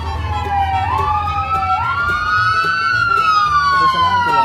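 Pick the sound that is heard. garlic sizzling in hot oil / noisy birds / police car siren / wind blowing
police car siren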